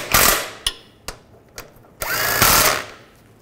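Bolts being run down with a power tool on the water pump of a 2005-10 Volkswagen Jetta: sharp mechanical bursts and short ratcheting clicks, loud and close, with no talk.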